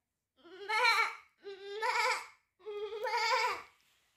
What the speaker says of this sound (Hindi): आपको बकरे की आवाज़ आती है